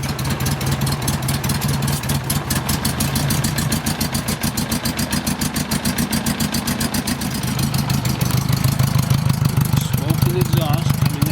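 Honda Goldwing motorcycle engine idling steadily with a newly mounted exhaust, a close, even pulsing rumble that swells slightly louder toward the end as throttle is added.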